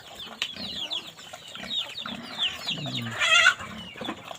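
Chickens cluck and squawk in a busy farmyard, with a brief flutter of flapping wings and ducks and other animal noises nearby.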